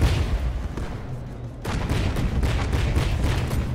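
A video-game naval cannon in From The Depths fires 150 mm shells at about 228 rounds per minute, a loud, continuous roar of rapid booming shots with a short lull midway.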